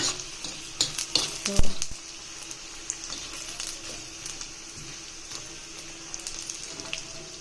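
Eggs fry in a hot pan while being stirred, a steady sizzle running throughout, with a burst of sharp utensil scrapes and clanks against the pan early on that then settle into quieter frying.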